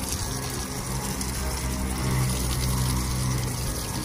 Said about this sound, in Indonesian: saya pinjam keran dan selang nih cuci mobil